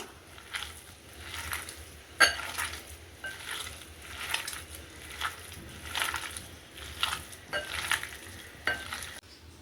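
Wet, squelching kneads and squishes as a cabbage kofta mixture is worked by hand in a bowl, a close, repeated rhythm of soft pressing and mashing with no talk.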